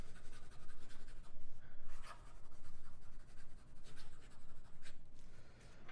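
An Aurora 88 Blue Mamba fountain pen with a broad nib writes fast on paper, giving a steady, close scratchy rasp in quick rhythmic strokes, with no talking.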